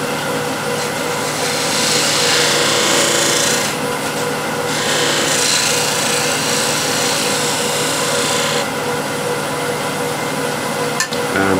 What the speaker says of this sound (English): This will give me much cleaner surface as I'm sort of scraping the inside